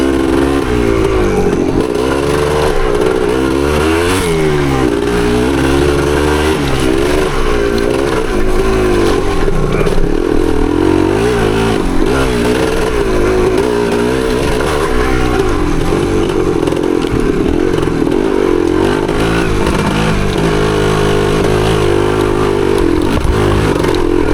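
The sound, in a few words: 1975 Yamaha DT250 motorcycle riding trail in second gear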